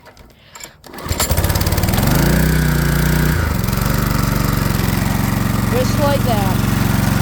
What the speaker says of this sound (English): you should be able to take your pull cord, give it a pull,